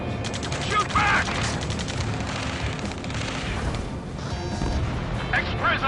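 Gunfire and explosive crashes fill a busy combat scene in Ace Combat 7, with dense sustained bursts and impacts throughout and voices shouting under the din.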